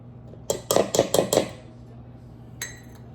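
A utensil stirs melted butter and cocoa powder in a bowl for brownie batter. Five quick, rhythmic clinks against the bowl are followed by a pause and one more tap.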